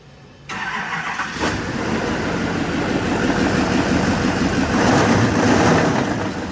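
A stock diesel truck engine cranks and catches abruptly, then settles into a loud, steady, gravelly idle that swells slightly toward the end.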